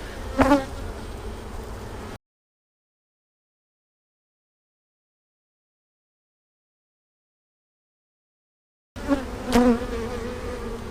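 Honey bees buzz loudly during a fall hive inspection as brood frames are lifted and the queen is located; a dense, close swarm drone comes in two bursts, separated by a long stretch of total silence.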